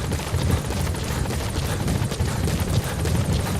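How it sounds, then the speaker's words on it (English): Steady rotor chop of a support helicopter in the video game Metal Gear Solid V: The Phantom Pain, a constant thumping whir holding at moderate loudness throughout, with no voices. "Support helicopter has arrived."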